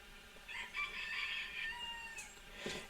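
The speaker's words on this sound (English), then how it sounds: "And you have the chickens back there." Backyard chickens cluck and a rooster gives a faint crow from a distance, thin and brief, over quiet background hiss.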